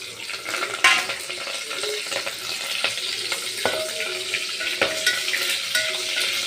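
Garlic and curry leaves crackle and sizzle in hot oil for a tempering, a steady bright frying hiss with a few sharp pops and occasional stirring clinks, close and fairly loud with no talking.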